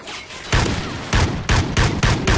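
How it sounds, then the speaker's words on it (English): Loud bursts of gunfire in the Call of Duty Ghosts video game, about six sharp volleys in quick irregular succession with a short pause near the start. "Where am I getting shot from?"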